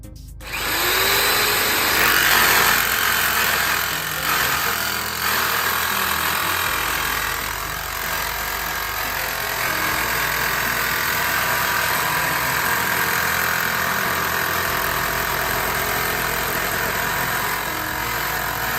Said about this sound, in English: Decided to change out the blade on the jigsaw because it's not really cutting the metal like it should.